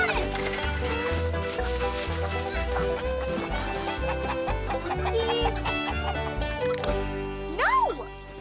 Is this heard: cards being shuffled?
no